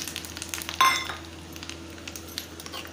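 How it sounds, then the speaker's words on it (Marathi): Garlic frying in hot oil with curry leaves and cashews for a dal khichdi tadka, a steady soft sizzle with a brief brighter burst and a faint clink of utensils. "चांगला भाजून घ्यायचा आता लसूण"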